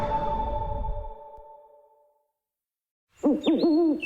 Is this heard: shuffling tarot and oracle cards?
no